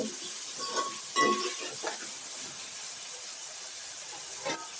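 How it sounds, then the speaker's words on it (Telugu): Onions with turmeric fry in hot oil, giving a steady close sizzle and hiss, with a few soft scrapes and clinks of a stirring spoon against the pan. "ఈ ఉల్లిపాయలు బాగా గోల్డ్ కలర్లో వచ్చే వరకు వేగనిద్దాము"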